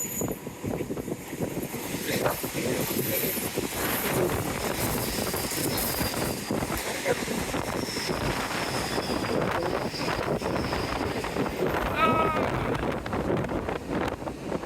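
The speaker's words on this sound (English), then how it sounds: "even if it is windy" Wind gusting across a seawall at Teignmouth, a steady broad roar with buffeting against the microphone and a faint passing whine.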